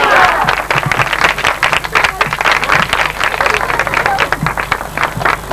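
Audience at a church convention clapping, a dense ongoing patter of applause from a crowd, loud and close, with a voice talking over it.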